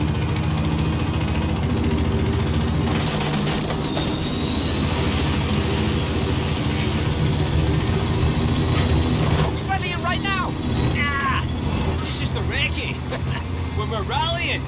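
Helicopter overhead in the open-world racing game Forza Horizon 5, a steady rotor and engine drone held throughout under constant game ambience, with a rising tonal whine, background talk and some chirping bird-like effects near the end.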